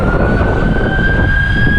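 Police vehicle siren in Dubai, heard as a steady high continuous tone over loud, dense street traffic noise throughout, with no talk.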